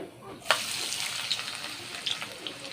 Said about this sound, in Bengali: তো তেলটাকে আমি ভালো করে গরম করে নিয়েছি। আর এবার পেঁয়াজগুলি দিয়ে দিচ্ছি।